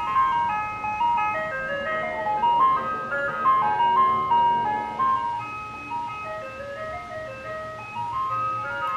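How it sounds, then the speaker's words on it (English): An ice cream truck parked on a residential street plays its tinny chiming melody continuously and steadily, fairly loud and close, with a faint vehicle engine rumble beneath and no talking. "It's just an ice cream truck."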